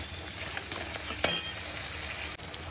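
A paste of ground cashews and poppy seeds fries in oil in a pan, a continuous soft sizzle with light stirring scrapes and one brief utensil clink.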